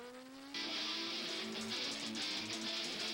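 A Yamaha R6 motorcycle heading out onto the Summit Point track on a hot day, its engine rising steadily loud and close with shifting revs after a quieter start.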